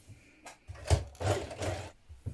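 A sewing machine stitches the side seams of a hemband facing on a tunic in short close bursts, with brief pauses between runs of stitching and light handling noise.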